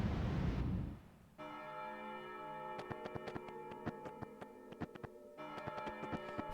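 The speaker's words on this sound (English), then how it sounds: "For whom the bell tolls." A bell tolls in the Chrono Cross video game. A loud burst gives way to a sustained ringing tone, then a run of regular metallic strikes rings out over the lingering hum, moderately quiet overall.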